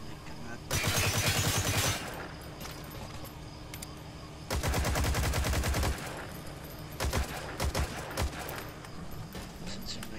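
Bursts of automatic gunfire in Metal Gear Solid V: two long sustained volleys of rapid shots, then a few short clipped bursts, loud and close, with a voice talking now and then over the shooting.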